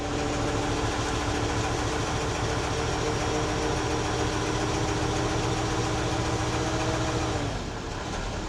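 A Mercedes OM 422A V8 diesel in a Liebherr LTM 1070 mobile crane from 1989 runs steadily under a little hand throttle after a cold start. It makes a loud, dense, continuous rumble that dips slightly near the end, with no talking.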